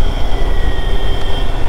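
An elevated metro train in Kochi rumbles steadily overhead along MG Road, a loud continuous low roar with a faint tonal whine and no talk.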